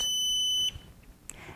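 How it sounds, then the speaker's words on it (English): A PIR motion sensor alarm gives a loud, steady high-pitched electronic tone for about two-thirds of a second, then stops abruptly, leaving quiet room noise and a faint click. "pass your hand through the sensing field. The alarm will sound."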